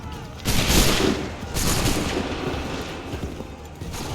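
Musket volley fire in the game Assassin's Creed 3, with loud broadband bursts landing around half a second and one and a half seconds in, each trailing off into a rumbling wash of noise.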